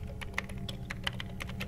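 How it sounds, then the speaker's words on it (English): Typing on a computer keyboard inside the video game Black Snow: a quick, uneven run of crisp key clicks, close and clear, with no talking. "Seems that I'm typing something"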